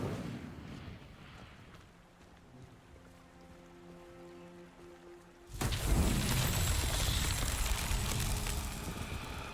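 An Incendio fire spell in Hogwarts Legacy erupts suddenly partway through, a loud broad whooshing burst of flame that roars on after a quieter ambient stretch.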